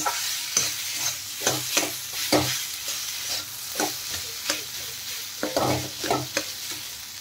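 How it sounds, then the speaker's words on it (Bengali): Spoon scraping and stirring potatoes with spices in a frying pan for aloo samosa filling, a series of rhythmic close scrapes over a soft constant sizzle. "এখন নেড়ে চেড়ে ভালো করে মশলার সাথে মিশিয়ে নেব"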